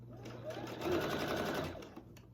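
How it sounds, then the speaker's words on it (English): A sewing machine stitches binding along a marked line, humming steadily and close for a couple of seconds with a slight swell in the middle. "So I'm just going to sew directly onto that line."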